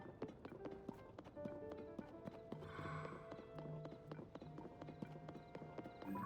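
Steady clip-clop of horse hooves trotting at a brisk pace in Zelda: Tears of the Kingdom, with a brief whinny partway through and faint background game sounds.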